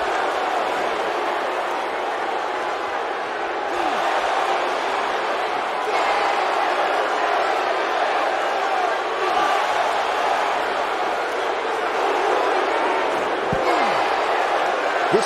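Arena crowd at a WWE 2K18 table match, Cactus Jack versus Vader, a steady loud roar of spectators with occasional thuds of wrestling impacts, continuous throughout.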